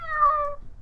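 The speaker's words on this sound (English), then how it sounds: "Where is this cat that's meowing?" A cat gives a single clear, drawn-out meow, fairly loud and close, with nothing else around it.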